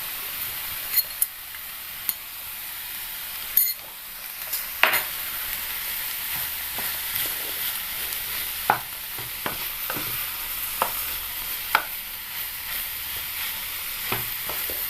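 Green tomato thoran with shallots and salt is stirred in a pan, a steady soft sizzle broken by repeated scraping, clicking spoon strokes at close range.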